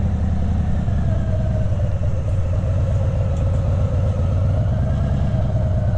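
A Harley-Davidson Heritage Softail motorcycle engine runs steadily at close range, a loud, continuous low rumble with a throbbing mid-pitched note throughout and no talking.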